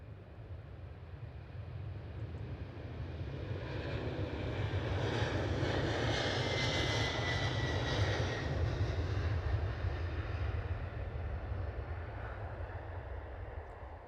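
A fixed-wing airplane's engines roar steadily at Edinburgh Airport, swelling louder as the aircraft passes near and then holding a broad, sustained rumble with some wind noise.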